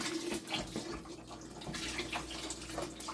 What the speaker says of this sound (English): I'm going to go ahead and start adding my broth